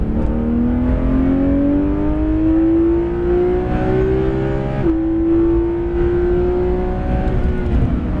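A 991.2 Porsche 911 GT3 RS with PDK gearbox accelerates hard on a racing circuit, its engine note rising steadily, a quick shift around the midpoint, then climbing again, loud and continuous with no talk.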